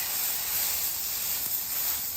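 Flank steak pinwheels sear presentation side down on a hot griddle, giving a steady, close, bright hiss and sizzle that holds even throughout with no talk.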